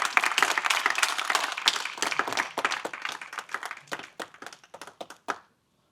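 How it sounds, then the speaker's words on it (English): Lecture audience at a talk on caregiving gives a speaker a round of applause, dense clapping that steadily thins into scattered individual claps before stopping, no talking. "Let's give a big round of applause for Dr."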